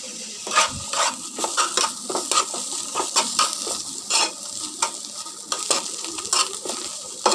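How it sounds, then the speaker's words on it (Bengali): Bitter gourd fries in a pan with a constant bright sizzle, broken by repeated scraping stir strokes of a utensil against the pan, close and steady. "আরও কিছুক্ষণ আমি আস্তে আস্তে করে ভেজে নিতে থাকবো"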